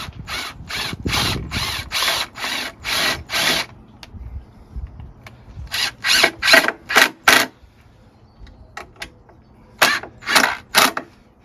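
A power drill drives screws into wood for a pantry storage unit, giving three bursts of rhythmic ratcheting clicks separated by short pauses, close and loud, with no speech.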